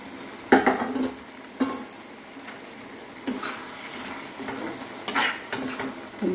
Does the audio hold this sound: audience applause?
no